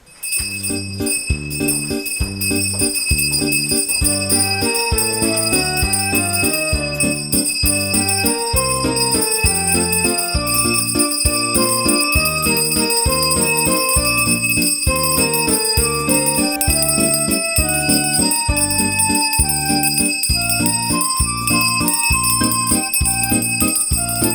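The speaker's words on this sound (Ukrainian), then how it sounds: "і дзвоник голосистий задзвенить" A school bell rings at a Ukrainian first-bell ceremony for Day of Knowledge, loud and bright, striking in a steady, repeating rhythm of clear chiming tones that runs unbroken throughout.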